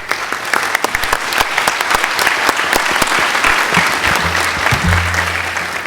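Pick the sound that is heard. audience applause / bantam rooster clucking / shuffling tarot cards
audience applause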